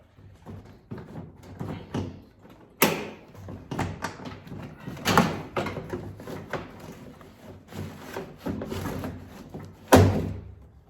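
A door trim panel coming off an old-body-style Ford truck door, giving a few sharp plastic clip pops and thumps, with one loud crack near the end, among rustling handling noise.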